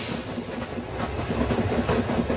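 Eight-carriage SNCF French passenger train running on rails, a steady close rumble with a faint rhythmic clatter of wheels over track joints throughout.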